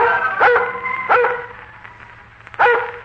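A Scotch collie barks three times in a radio drama, each bark loud and close with a clear pitch, separated by short pauses over a faint steady background hum.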